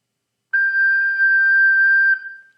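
A single high G on an alto recorder, pure and held steadily for about a second and a half, breathy and close, then a brief trailing tail.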